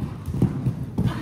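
Horse hooves clip-clop in a steady, close rhythm of about two falls per second, with a low rumble of movement underneath.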